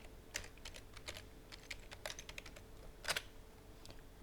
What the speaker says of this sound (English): Then we need to type password that we can remember it.